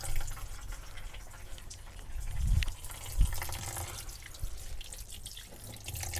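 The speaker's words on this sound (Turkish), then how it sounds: "balıklarımızı yıkayacağız ve bu şekilde bunları yıkayıp sizlere geri döneceğiz" Silver fish being rinsed under running tap water in a sink, a steady splashing flow with drips and a brief louder gush midway, close and alone.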